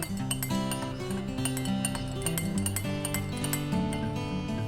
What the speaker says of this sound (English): And what you want to do really is to stir things up like this.